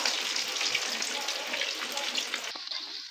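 Potato doughnuts fry in hot oil over moderate heat, a steady close sizzle and bubbling hiss that continues without pause, with no voices.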